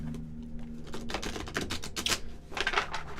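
Rapid riffling clatter of cards being shuffled, a few quick bursts of dense flicking close by, with a steady low hum underneath.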